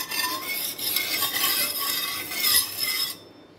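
A poha vegetable dosa batter is spread around an oiled pan, giving a close, steady scraping and swishing that runs continuously and cuts off just before the end, with no talking.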